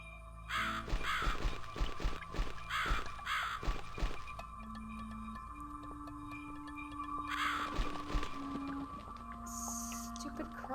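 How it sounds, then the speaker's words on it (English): Video game crows cawing several times in harsh bursts over a steady low ambient drone, with a few sustained tones drifting in the background. "Stupid crows."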